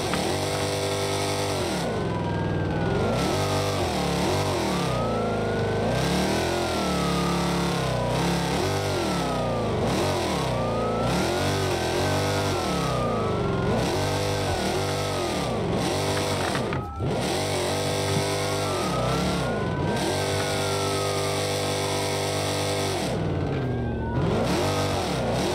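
A 1000 hp Dodge Demon in BeamNG.drive revs hard while drifting. The engine climbs and drops in repeated sweeping surges and stays loud and close throughout, with no voices over it.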